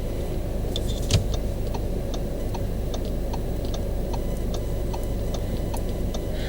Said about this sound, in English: as you can hear, the sound on the turn signal